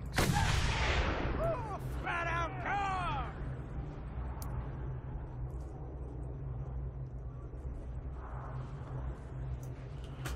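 Gunfire rattles in the Mad Max vehicle-combat game, with brief voice-like calls early on, then a steady rumble of engine and shooting noise under the action.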